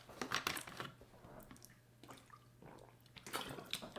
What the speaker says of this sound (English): as I take a drink of water